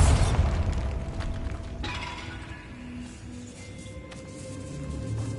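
A Bombarda blasting spell exploding in the video game Hogwarts Legacy, a booming burst with shattering debris at the start that fades into a rumbling tail and faint clinks.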